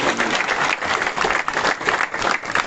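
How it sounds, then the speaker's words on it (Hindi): A large audience at a rural development rally applauds the Prime Minister, with steady, dense clapping that holds at full volume for the whole stretch. "इसलिए जोरदार ताली बजाकर प्रधानमंत्री जी का,"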